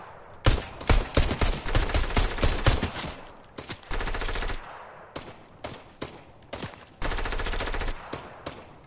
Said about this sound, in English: All I hear is gunshots.